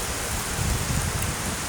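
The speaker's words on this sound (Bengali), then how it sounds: "প্রচুর বৃষ্টি দর্শক" Heavy rain pouring steadily and loudly on surfaces beside a main road near a petrol pump in Kalukhali, a dense unbroken hiss with no voices.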